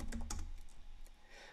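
Keys tapped on a computer keyboard while typing a word into design software, a few quick close clicks at first, then sparser, fainter taps, with no voices.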